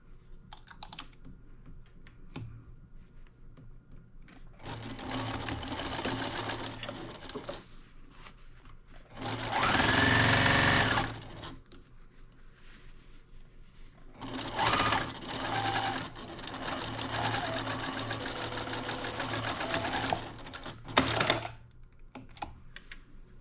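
A sewing machine stitches a seam on a fabric wine gift bag, whirring in several sustained runs separated by brief quiet gaps, close and steady.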